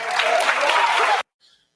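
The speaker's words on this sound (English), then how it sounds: "They clapping." Studio audience applause on a TV talk show, a dense sustained burst of clapping that cuts off abruptly after about a second, followed by near silence.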